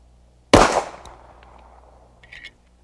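A single loud, sharp pistol shot fires a 230 grain Hornady XTP load at about 870 feet per second in low light, with a reverberant tail decaying over two seconds and a faint later clink.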